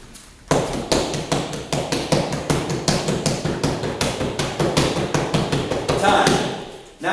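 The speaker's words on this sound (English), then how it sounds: "Go ahead, stationary straight blast." Stationary straight blast punches land on a held pad in a rapid, steady rhythm of loud, close slaps and thuds lasting several seconds.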